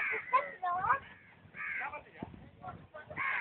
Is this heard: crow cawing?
yes